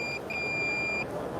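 Electronic edge finder for machining at a machine tool trade show, giving two clear high beeps, a short one and then a longer steady one, over quiet background hum.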